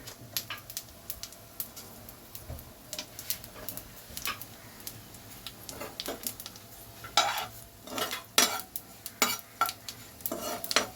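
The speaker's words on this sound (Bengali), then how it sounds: "বেশ খানিকটা গোটা জিরে ফোড়ন দিয়ে দিলাম।" Whole cumin seeds sizzling in hot oil for a Bengali greens dish, a faint steady crackle with scattered sharp pops and some stirring clinks, growing busier toward the end, with no talk.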